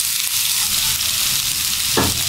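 Sliced onions sizzle and fry steadily in hot oil for an egg do pyaza, with a near, continuous crackle and a brief scrape of a stirring spoon near the end.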